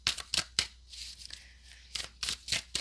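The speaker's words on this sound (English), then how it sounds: "let's get started with the tarot. While I shuffle" Tarot cards being shuffled by hand, a handful of quick, crisp riffling bursts in close range, fairly quiet, with short pauses between them.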